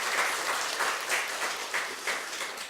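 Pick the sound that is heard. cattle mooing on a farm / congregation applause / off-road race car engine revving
congregation applause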